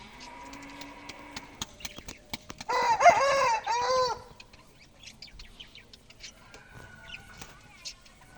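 Pet birds, chickens and a rooster are heard together: a loud rooster crow rises in the middle over scattered clucks and bird calls, with a person speaking at times.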